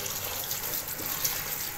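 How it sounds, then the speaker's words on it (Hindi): Cold tap water runs steadily, splashing over boiled macaroni being rinsed in a kitchen sink, a continuous hissing gush heard close. "आपने इसको ना खुले पानी से और ठंडे पानी से निकाल लेना है बहुत अच्छी तरह"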